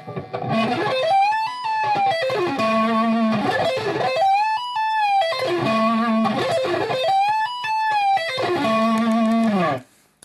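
Distorted electric guitar plays fast sweeping arpeggio runs with tapped high notes, repeating the same rising and falling pattern several times, loud and alone.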